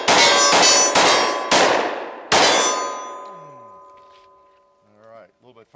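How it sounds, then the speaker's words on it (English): Glock 29 10mm pistol rounds striking a steel tombstone target, four or five sharp ringing clangs in quick succession, the last one ringing out long and fading, followed by brief talk. "I think I'm going to shoot the tombstone with the 10 since they're so powerful"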